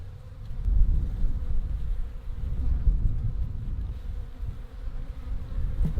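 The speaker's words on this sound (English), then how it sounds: "Again, not a massive amount of bees" Honey bees buzz steadily and loudly around an open beehive during a spring hive inspection, a dense continuous drone with no voices.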